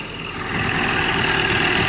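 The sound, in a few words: warmed-up engine idling around 1,000 rpm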